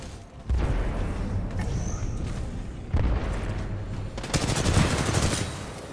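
Rapid automatic gunfire from a weapon in the video game Titanfall 2, dense bursts of shots rattling almost continuously over loud game action, growing heavier toward the end.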